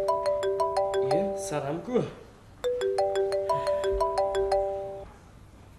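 A mobile phone ringtone plays a bright, repeating melodic pattern in two bursts, with a voice briefly speaking in the gap between them, in a household comedy scene.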